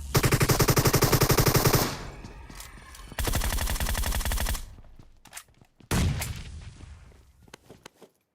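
Bursts of rapid machine-gun fire in PUBG Mobile, loud and close, come in long sustained volleys separated by short pauses, with scattered single shots and echoing tails.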